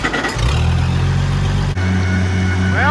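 An Oliver Super 77 tractor engine runs steadily on a test drive, a loud, close, continuous low droning rumble with a brief dip partway through.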